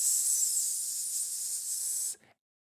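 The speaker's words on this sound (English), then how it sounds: "try a hissing sound like this" A singer's sustained breath hiss, steady and bright for about two seconds before cutting off cleanly, heard alone with no talk.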